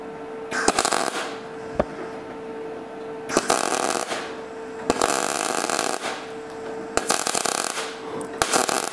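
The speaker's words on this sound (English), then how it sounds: "But you do need to weld it all the way through." Arc welding on a metal nut converter crackles and buzzes in several separate bursts of a few seconds each, close and fairly loud, with quieter pauses in between.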